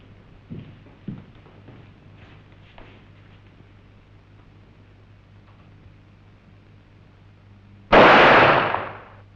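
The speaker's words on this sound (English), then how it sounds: "The shot you just fired" A single gunshot rings out in a 1966 World War II spy film: one sharp, loud blast that decays quickly, after several seconds of quiet room tone broken by a few faint knocks.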